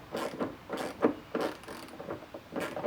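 A ratchet fitted with a 10mm socket loosens a car bolt inside a trunk, giving several short bursts of rapid clicking in uneven strokes, close and fairly quiet, with no talking.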